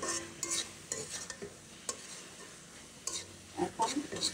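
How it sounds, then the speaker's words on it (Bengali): Boiled greens stir-fried in a pan, a low sizzle punctuated by irregular scraping and clinking strokes of the spatula against the pan, close and fairly quiet, with no talking. "এখন ভাজা ভাজা করে নেবো।"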